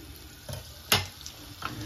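Butter and oil melting in a hot frying pan for calf's liver with Bercy sauce, a faint steady sizzle with a few soft clinks and crackles, no talking.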